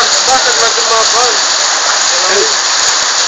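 Hail pours down in Yadamah in a dense, steady hiss of pelting ice, loud and unbroken, with voices talking faintly beneath it.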